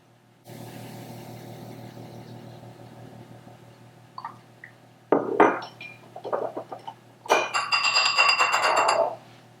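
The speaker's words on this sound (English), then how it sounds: "So I just used my teaspoon and swirl it around." Close, small metallic clinks and scraping as a teaspoon swirls vanilla into liquid ingredients in a dish, building into a busier burst of tinkling near the end after a low background hum.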